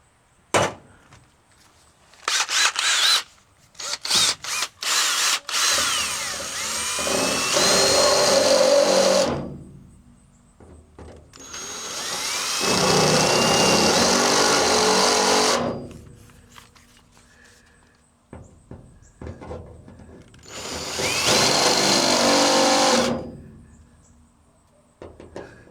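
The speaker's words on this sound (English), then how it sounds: "Now I'm just using a center drill, so that way it doesn't walk as badly." A center drill bores holes in a steel plate for a hybrid exo cage, giving three long, loud bursts of whining, grinding noise with quieter gaps and a few short clattering knocks between them.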